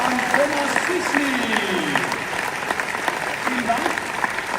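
Steady applause from a crowd at the closing ceremony of the 2025 CISM Military World Winter Games in Lucerne, with voices carrying over the clapping throughout.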